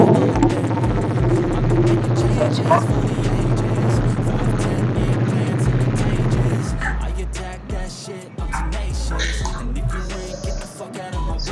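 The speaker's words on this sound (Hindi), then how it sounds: "अब इसका एग्जॉस्ट नॉट चेकआउट करते हैं।" A 2022 Bajaj Dominar 250 motorcycle's exhaust rumbles steadily at idle with a low, continuous throb, then the note shifts and thins partway through, close to the microphone.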